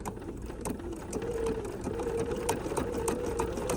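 A sewing machine runs slowly through a candle wicking stitch, its motor humming steadily under a rapid, even mechanical ticking of the needle, close and continuous with no talking.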